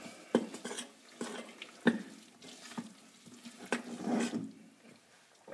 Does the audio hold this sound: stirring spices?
yes